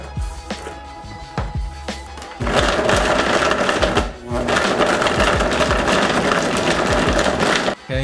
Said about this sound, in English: So I'm just gonna throw the rest in my blender.